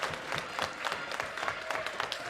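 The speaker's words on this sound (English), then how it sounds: "The crowd comes to their feet." A volleyball crowd in a school gym claps steadily, a faint, even patter of applause from the stands with no spoken voices over it.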